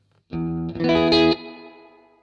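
A short burst of music with an exaggerated reverb effect, two loud chord hits followed by a lingering tail that decays slowly into near silence.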